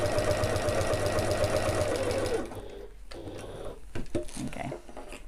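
Sewing machine stitching fabric for an evening bag, a steady rapid mechanical whir for about two and a half seconds, then stopping and leaving quieter handling noises.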